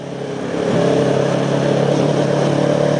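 A motorcycle engine revving hard for a wheelie, a loud, steady drone that rises after a brief build and then holds, close up with wind rush and no talking.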